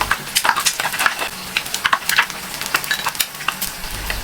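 An egg frying in a pan as a side for a home-cooked dried anchovy dish, giving a steady close sizzle with dense popping crackles and spatters throughout, no voices.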